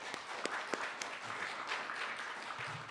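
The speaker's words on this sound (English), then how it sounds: "So let's give Sid a big round of applause for that wonderful talk." An audience gives a round of applause after a talk, with a soft, muffled wash of clapping and a few sharper individual claps standing out near the start.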